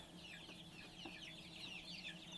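Faint, high-pitched peeping of many Griz-bar chicks chirping continuously at low volume, with soft background noise.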